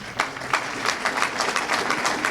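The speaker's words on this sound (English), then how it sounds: "I wanted that applause for them." An audience at a Martin Luther King essay award ceremony applauds the 15 student representatives. The clapping is steady and scattered, heard from a moderate distance, with no talking over it.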